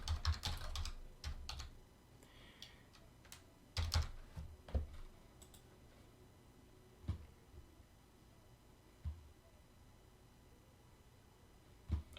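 Keys clatter on a computer keyboard as a form name is typed, quick bursts of clicking at first, then sparse single keystrokes and pauses, close and fairly quiet.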